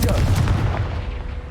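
A Confringo blasting spell erupts in the game Hogwarts Legacy: one loud, close boom with a deep rumbling body that fades over about a second, heard alone.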